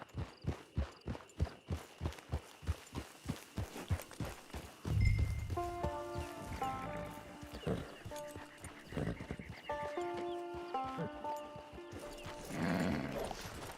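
Horse in the Red Dead Online video game: a steady run of clip-clopping hooves, then a loud, close neigh with a long whinnying call, and further whinnies and snorts over more hoofbeats.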